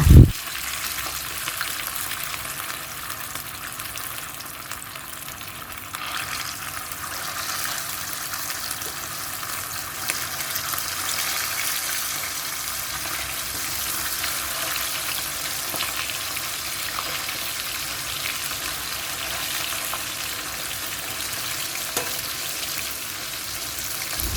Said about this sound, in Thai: น้ำมันที่เหลือเราใส่ปลาที่เหลือลงไปทอดค่ะ